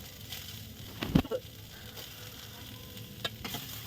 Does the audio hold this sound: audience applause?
no